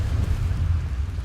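A Bombarda blasting spell bursts in a Harry Potter video game, a loud, rumbling low explosion that rolls on heavily for just over a second with no voices.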